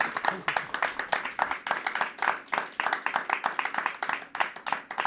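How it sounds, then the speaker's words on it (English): A small audience gives a round of applause after a masterclass talk, many hands clapping close by in a steady, dense patter that holds for several seconds. "Can we have a small round of applause for Barbara Emile for her."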